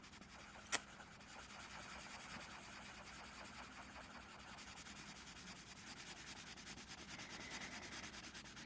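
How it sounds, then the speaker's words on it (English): Rapid scribbling of a Crimson Lake watercolor pencil on paper, a quiet continuous dry rubbing scratch with faint rhythmic strokes and one brief tap near the start. "So here is our watercolor in Crimson Lake, which I will also rapidly scribble onto here"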